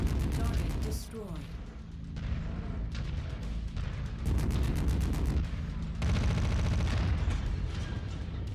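Heavy video-game gunfire pounds at a dropship in loud, dense bursts alongside booming impacts, with voices speaking over the barrage.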